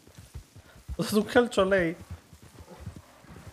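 Horse hooves clip-clop in a steady walking rhythm during a horseback ride, while someone speaks loudly over the middle stretch of the hoofbeats.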